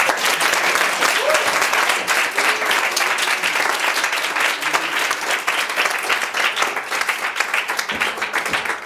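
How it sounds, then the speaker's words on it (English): Crowd applause at the end of a tech talk, dense sustained clapping from a sizable audience, loud and steady for the whole stretch with no voices on top. "Round of applause for Kate."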